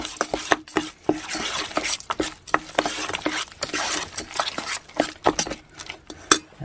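Roasted buckwheat kasha being stirred into sourdough waffle batter: repeated close scraping and clinking of a utensil against a bowl, with soft wet patter between strokes, irregular and busy throughout.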